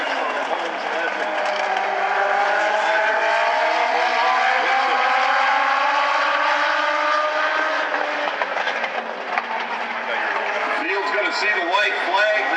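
Legend race cars lap single file in a short trophy dash at South Sound Speedway, engines droning steadily and continuously at a distance, with pitch sweeping as the pack passes, under a race announcer's commentary.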